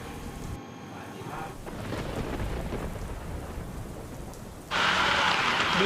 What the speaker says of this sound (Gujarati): ભારે વરસાદ અને ભારે વરસાદ બાદ અનેક રસ્તાઓ જળમગ્ન થયા છે.